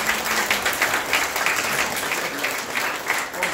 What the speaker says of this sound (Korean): 우리 서로를 위해서 박수 한번 부탁합니다.